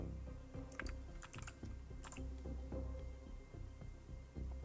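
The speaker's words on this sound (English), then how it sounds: "you type in "who is,"" Keys clatter on a computer keyboard in quick uneven bursts, close and fairly quiet, with short pauses between clusters of keystrokes and no voices.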